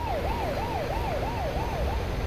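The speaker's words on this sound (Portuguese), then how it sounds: "A polícia passou com a sirene ligada" A police car siren passes in Euro Truck Simulator 2, its wail rising and falling in a steady repeated sweep over a constant truck engine drone.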